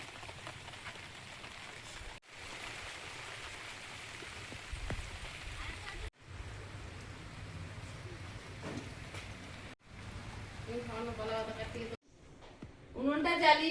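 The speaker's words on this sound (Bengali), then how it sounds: "প্রচুর বৃষ্টি হচ্ছে" Heavy rain falls steadily outdoors, a dense, even wash of patter that runs through the whole stretch, with brief dropouts and some clattering kitchen sounds near the end.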